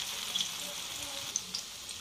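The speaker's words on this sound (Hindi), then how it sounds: "अब मैं ये मंचूरियन बॉल इसमें सारे डालूँगी और फ्राई कर लूँगी" Manchurian balls deep frying in hot oil over a high flame, a steady close sizzle with a few faint crackles and splashes, fairly quiet.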